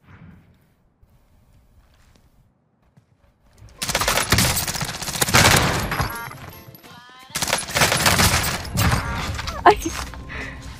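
Video game gunfire from a firefight: dense bursts of shots and rapid automatic fire in two loud stretches after about four seconds of near silence, with faint voices under the action.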